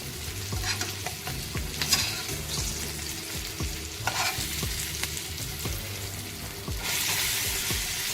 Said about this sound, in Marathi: आता आपण या मिरच्या पलटी करणार आहोत.